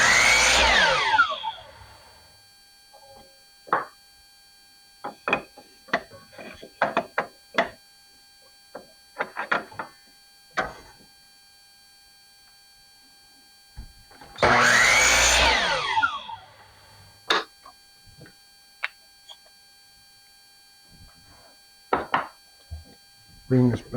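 A power tool cuts a bevel on 6-inch wooden shelf supports in two loud bursts, one at the start and one midway, with clicks and handling noises between them.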